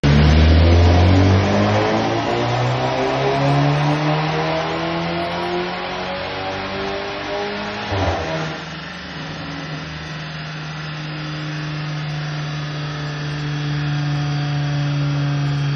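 A Mercedes A250 with a stage 2 methanol remap, open port intake and full exhaust roars on a dyno during a power run, engine pitch sweeping upward loud and close, a brief shift break midway, then climbing again.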